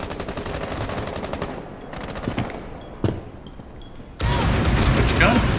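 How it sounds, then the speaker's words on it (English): Automatic weapon fire from Rainbow Six Siege on the Border map, with several rapid bursts separated by short pauses and ending in a loud sustained volley, with brief voices in the background. "Man, this gun still kicks a bunch."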